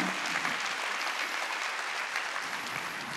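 Church congregation applauding at a Sunday worship service, a steady, dense burst of clapping that fills the whole stretch at moderate level.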